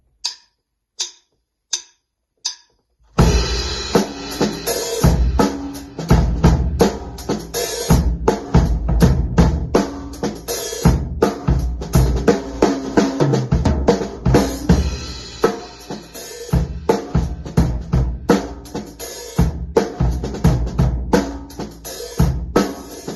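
Four clicks count in before a full drum-kit groove kicks in, built on half-paradiddle sticking between hi-hat and snare with kick drum underneath, loud, steady and busy for about twenty seconds.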